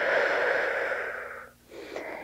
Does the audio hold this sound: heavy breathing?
yes